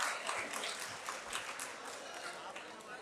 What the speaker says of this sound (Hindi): भरपूर तालियां बजाइए